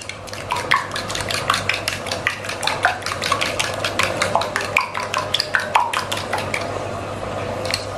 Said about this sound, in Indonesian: Lalu diaduk hingga rata.